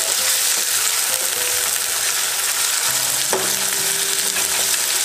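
Tomatoes fry in a pan for Indian-style pasta, giving a loud continuous sizzle and hiss close by, with a soft stir or scrape partway through and no talk.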